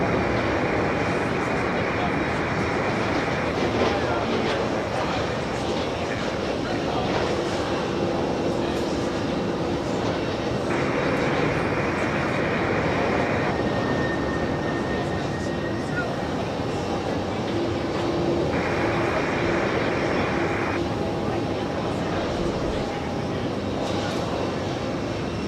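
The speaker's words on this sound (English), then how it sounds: "We got another Delta Heavy about to touch down on the parallel 31 right." A Delta Airlines heavy jet landing on runway 31 right at JFK airport, a continuous broad engine roar heard from a distance, with talk occurring intermittently over it.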